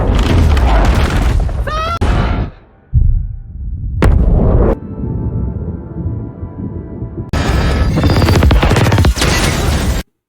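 A bomb explodes in a 2025 monster and zombie film, with loud booming blasts and rumbling that come in heavy bursts around a brief quieter stretch.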